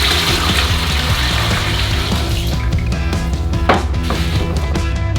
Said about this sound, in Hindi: आटे के लिए बेसिन में 3 लीटर 330 मिलीलीटर पानी डालेंगे।